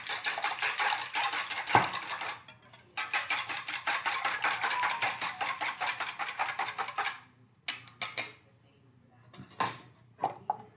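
Rapid, steady whisking of pancake batter ingredients in a bowl, a dense metallic ticking that runs for several seconds, pauses briefly, resumes, then breaks into a few short bursts near the end.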